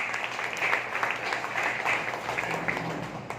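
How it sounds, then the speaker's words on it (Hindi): Steady applause from an audience at a speech event, dense continuous clapping filling the whole stretch at an even level with no talk over it. "इनके लिए एक बार जोरदार तालियां"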